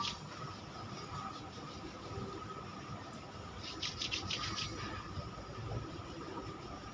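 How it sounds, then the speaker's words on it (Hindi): Both hands rubbed briskly together during a breathing exercise session, a continuous dry swishing friction sound heard close up and alone. "दोनों हाथों को रब करेंगे।"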